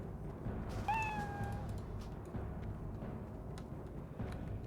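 A single cartoonish meow from a cat in the World of Warcraft video game rings out clearly just under a second in, over a steady bed of game ambience and background noise.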